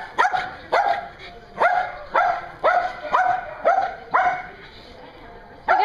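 Puppies bark in a quick series of about nine sharp, high yips at a steady pace, loud and close, while people talk nearby.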